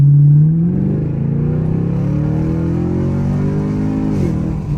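Catless Chevrolet Camaro SS V8 engine pulling hard at full throttle, its loud, raspy exhaust note climbing steadily through the revs with a brief dip at a gear change, heard close from inside the car.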